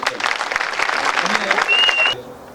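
Audience applause at a youth meeting, a burst of lively clapping from a crowd that carries on for about two seconds and then cuts off, with some voices mixed in.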